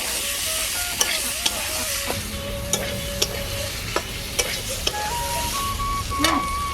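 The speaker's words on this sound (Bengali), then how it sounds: "ভালোভাবে একটু ভেজে নেব মশলাটার সঙ্গে।" Fried potatoes and broccoli are stirred in spice paste in a pan, giving a steady close sizzle with regular scraping knocks of the spoon and faint voices in the background.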